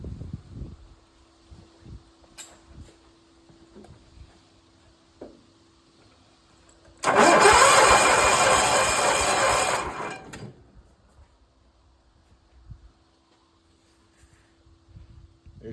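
A Kohler K532 twin-cylinder engine on a John Deere 400 tractor is cranked over with a compression gauge fitted, a loud three-second burst of rapid churning turnover between quiet stretches of faint handling noises.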